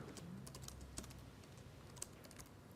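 Rapid, uneven keystrokes on a computer keyboard with a couple of sharper key clacks, close and fairly quiet, with no talking.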